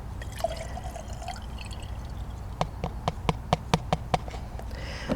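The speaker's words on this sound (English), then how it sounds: "I pour it into this jar" Used painting liquid pours into a small jar. A soft trickle gives way to a run of sharp, distinct drips and plinks that fall a few times a second, close and clear, with no talking.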